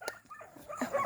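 A small puppy whimpers and yelps in a village home, a few short high cries over about a second, fairly close, with faint background noise.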